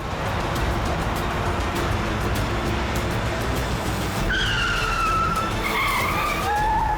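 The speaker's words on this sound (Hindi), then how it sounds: "ये इसने गाड़ी क्यों रोक दी?" A car brakes hard and skids to a stop in a CID crime drama scene, with a steady roar of tyres on the road building into shrill, wavering tyre squeals near the end.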